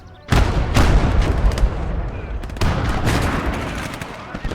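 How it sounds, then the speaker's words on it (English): An 88mm flak gun fires in a World War II strategy game, with heavy booming blasts and a loud rolling rumble of gunfire and impacts, close and continuous, with voices talking underneath. "That was an 88mm flak."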